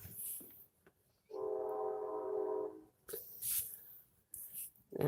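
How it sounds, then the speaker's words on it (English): A train horn sounds once for over a second, somewhat distant, amid intermittent rumbling and wind noise from a passing train. "As you can hear, one of the many trains that goes through this town every day."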